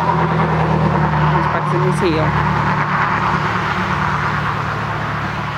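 Traffic rushes steadily and loudly on a road nearby, cars passing in a continuous roar, with someone talking over it.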